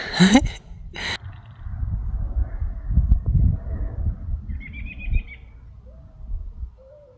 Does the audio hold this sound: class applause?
no